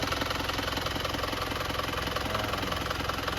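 An Isuzu TFR pickup truck's diesel engine idles close by with a steady, even clatter and low throbbing pulse, no voices present.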